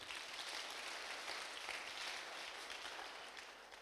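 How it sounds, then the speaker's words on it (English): An audience at a university health awareness week community hour claps after a doctor's talk, a faint, distant, steady patter of applause fading slightly toward the end. "yes, you can clap"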